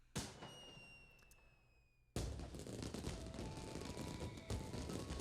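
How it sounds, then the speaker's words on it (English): Fireworks in the Okami video game: a sharp bang decays into a ringing hiss, then a second, heavier blast erupts into a loud, sustained crackling roar that keeps rumbling to the end. "You made a giant explosion!"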